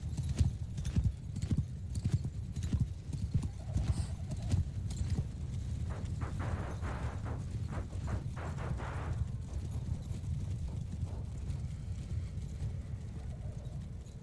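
In the video game Mount & Blade II: Bannerlord, cavalry horses gallop across a battlefield as a dense, continuous rumble of many hooves. A few brief sharper bursts stand out midway, with no speech over it.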